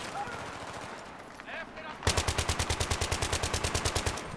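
Automatic weapon fire in the video game Battlefield 3 erupts after a quieter stretch with faint voices, then runs as rapid, evenly spaced loud shots until the end.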